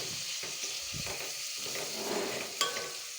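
Tomatoes frying in a pan with chili powder for gongura onion biryani, giving a close, steady sizzle with a few soft stirring scrapes and one brief sharp clink near the end.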